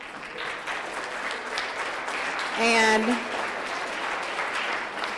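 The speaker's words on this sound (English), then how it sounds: "applause" An audience gives a round of applause to welcome arriving guest speakers at a girls' leadership forum, steady clapping with a voice speaking briefly over it near the middle.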